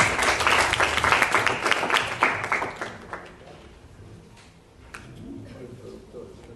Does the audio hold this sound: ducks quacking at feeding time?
no